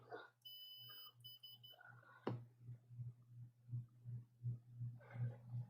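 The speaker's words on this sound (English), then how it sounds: "beep, beep, beep. Hopefully you can hear it beep." A low electronic multimeter continuity beep repeats in a steady rhythm, close and clear, after some brief rustling and a short high tone at the start.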